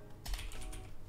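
A quick, soft run of keystrokes on a computer keyboard, a few light taps close up at low volume with no talking.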